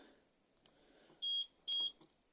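Caravan alarm handset on a Swift Challenger 580 van sounds two clear electronic beeps, each about a quarter second long and close by, after a few faint clicks.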